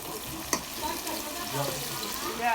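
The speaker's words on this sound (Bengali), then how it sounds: "পেঁয়াজটা একটু ভাজা ভাজা হইলো" Chopped onions sizzle steadily in a pan close by, a continuous frying hiss with a single sharp click early on.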